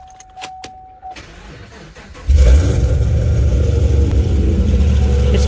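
A supercharged 2014 Chevrolet Camaro SS with a manual gearbox and no catalytic converters cranks briefly, then fires into a loud, aggressive rumble that holds steady and close.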